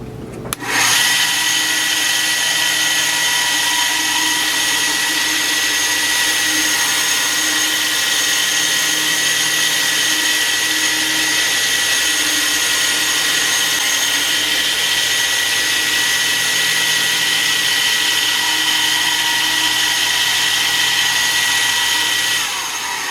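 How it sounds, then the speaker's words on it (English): Sanding disc rounding the corners of a wooden candle cage, a loud, steady high-pitched whine from the tool that runs without a break for over twenty seconds, with no talking. "turn the sanding disc on and just eyeballing it, go right around each corner to round them over a little bit"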